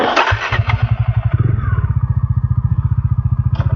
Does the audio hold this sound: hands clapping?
no